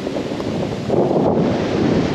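Rough sea waves and strong wind at a river mouth on Quinam Beach in South Trinidad, a loud, continuous roar of surf with gusts buffeting the microphone.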